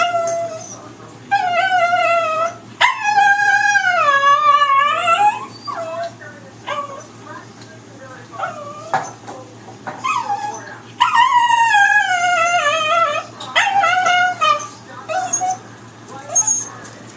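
A dog howls and whines for turkey on Thanksgiving, long wavering high-pitched cries in several drawn-out bouts with short whimpers between, close and loud, with no talking heard over it.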